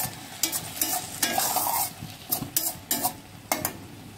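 Banana flower bharta being stirred in a pan: a series of scraping, shuffling strokes with a soft sizzle beneath, spaced about every half second, close and fairly quiet, no talking.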